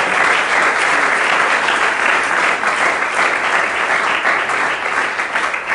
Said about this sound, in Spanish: ¿Quiere dar un aplauso al Señor en esta mañana?